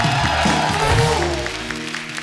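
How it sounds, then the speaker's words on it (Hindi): An audience claps to welcome Vicky Kaushal onto a comedy talk show stage, a dense, steady applause that tapers off slightly toward the end, with background music and crowd noise mixed in. "विक्की पाजी के लिए जोरदार तालियां।"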